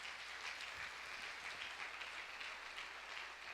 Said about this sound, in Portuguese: Quem pode dar uma salva de palmas para esse Deus?